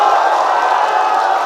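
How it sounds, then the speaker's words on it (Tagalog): A crowd roaring at a Filipino rap battle, a brief, loud, steady wash of cheering and shouting voices with no distinct breaks. "Crowd reaction!"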